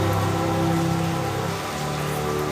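Steady rain pours down outdoors, a dense continuous hiss of drops on surfaces filling the whole stretch with no voices over it.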